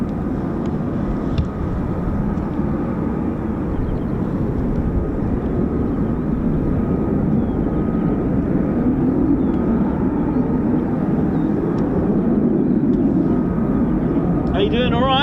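F-35B stealth fighter jets fly over RAF Marham, a broad continuous engine roar filling the air at steady loudness throughout, with no speech.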